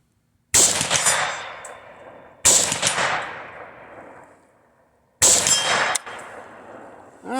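Three sharp AK47 rifle shots from a PSA GF3 fitted with an Attero Bravo mount, fired at a 100-yard target, each a loud crack with a long ringing decay, spaced about two seconds apart, with no talking.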